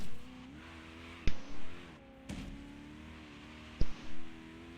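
Race car engine in Forza Horizon 3 on a sky track, a steady droning hum with rising and falling pitch through corners, broken by several sharp bursts of tire or impact noise, no talk.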